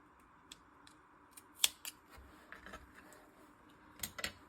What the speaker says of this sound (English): and just snip off the excess.